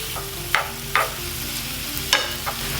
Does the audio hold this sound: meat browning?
yes